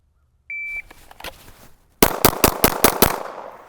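A shot timer beeps, then a rapid string of about six handgun shots rings out in a range shooting drill, loud, close and evenly spaced within roughly a second.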